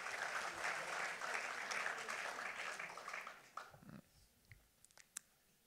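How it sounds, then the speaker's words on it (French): A room full of people at a political party congress applauds steadily, then the clapping thins out and fades to a few scattered claps. "je pense qu'on peut aussi, du coup, applaudir Daniel et Romain quand même"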